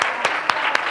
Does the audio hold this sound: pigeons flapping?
no